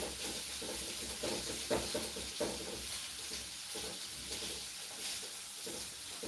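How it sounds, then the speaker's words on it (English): Soft, steady sizzling and hissing of onions frying in a pan, fairly quiet, with occasional faint clinks and stirring sounds. "So we have the onions in here, frying really good."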